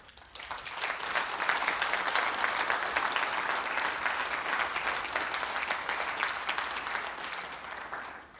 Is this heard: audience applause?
yes